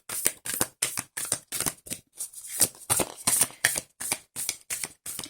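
Spell oracle cards shuffled by hand in a steady run of about a dozen crisp riffling bursts, each a short papery flutter separated by brief pauses, close and clear with no talking.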